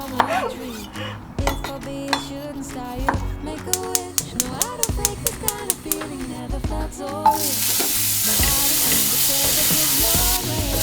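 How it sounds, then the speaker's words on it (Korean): Vegetables, including sliced kabocha squash, sizzle and crackle in a hot pan, preceded by clicks and taps of kitchen work and a voice, then a steady loud frying hiss fills the last few seconds. "야채마다 굽히는 소리가 다른 게 신기해요"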